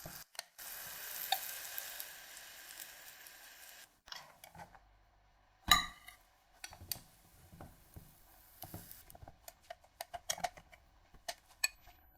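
Waffle batter cooking in a waffle iron, giving a steady soft sizzle that stops and starts, broken by sharp clicks and clatters of the iron and utensils, mostly faint with a few louder knocks.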